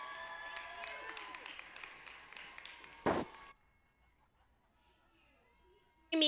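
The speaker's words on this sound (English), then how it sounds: "giving Principal Sims and her amazing staff a huge round of applause" Audience applause at a high school graduation ceremony, a broad burst of clapping that stops abruptly and gives way to near silence, with a sharp clap-like hit partway through and another at the end.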